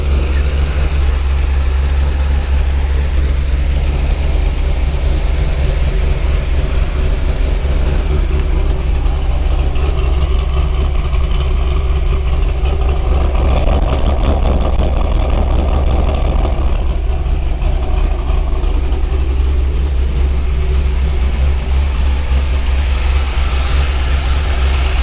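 A 2003 Corvette C5 with no catalytic converters idles steadily and loudly close by for the whole stretch, a deep, even rumble with a slight rise in revs around the middle.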